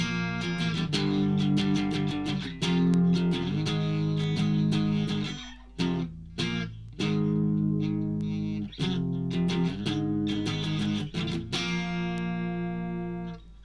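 Distorted electric guitar plays a power-chord riff, loud and sustained chords in bursts with brief gaps and stabs, ringing on to the end.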